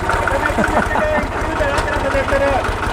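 A tractor engine idling with a rapid, steady low chugging pulse, loud and close, driven by small children, while voices speak over it.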